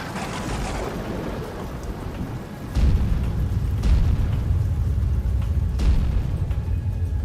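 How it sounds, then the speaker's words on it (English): Thunderstorm with steady heavy rain and deep rolling thunder, a loud low rumble building partway through and continuing, with several sharper cracks standing out over the constant downpour. "The sky was thundering and lightning"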